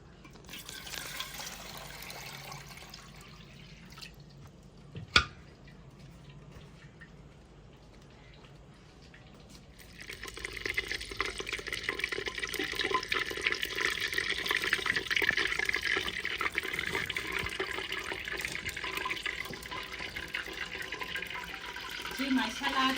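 Tomatoes, green chilies, garlic and ginger rinsed under a running kitchen tap in a village home; water patters and splashes loudly through the latter half after quieter handling sounds, with a sharp knock near the five-second mark.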